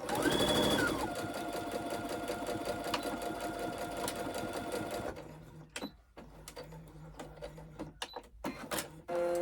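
A sewing machine stitches a lip balm holder in a quick, rattling run of needle strokes that stops midway, followed by softer clicks and handling noises up close.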